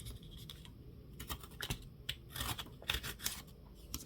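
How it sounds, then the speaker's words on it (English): Paper being torn from an old book for a junk journal craft, a run of short ripping and crinkling bursts close up, repeated several times with brief pauses, no talking. "it's harder to tear with the ruler when it's really close here, so I'm just gonna rip it"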